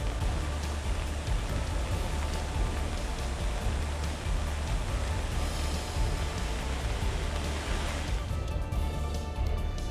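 A swollen river in flood after heavy rain, rushing with a steady, loud broadband roar that holds constant from start to end with no pauses.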